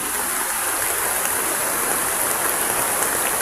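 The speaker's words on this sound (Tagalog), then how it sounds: "Tapos panay ulan pa. Mamaya tataas na naman tong tubig." Rain falls on a swollen mountain creek, its rushing water making a dense, even hiss that stays loud and close without pause, and no voices are heard.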